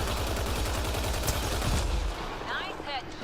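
Gunfire in the sci-fi shooter Mass Effect: Andromeda, a dense, loud stretch of rapid shots over a busy battle bed, then easing off as chirpy electronic tones appear near the end.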